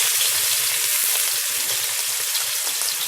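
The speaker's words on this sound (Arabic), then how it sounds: "حاطه حته سمنه، هنزل عليها بالبصله اللي انا حرطاها" Chopped onion sizzling in hot ghee in a cooking pot, a steady close crackle and hiss with no talking.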